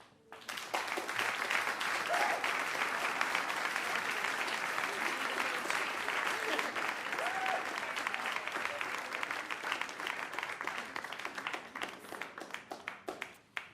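Sustained audience applause and clapping from a crowd after a Mother's Day speech, loud and steady throughout, with a few brief voices mixed in near the end.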